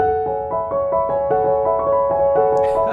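Piano notes ring and blend into one another with the sustain pedal pressed, sustained over a steady series of repeated chords, played alone and fairly loud.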